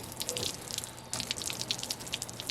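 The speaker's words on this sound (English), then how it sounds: "Get that all fully rinsed." Water from a hose or sprayer rinses over a metal panel being prepped for epoxy primer, a steady hiss and patter of spray sheeting off the surface, close and continuous with a brief break midway.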